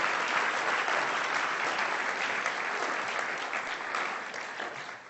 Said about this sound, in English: Let's give another round of applause to our scintillating semifinalists.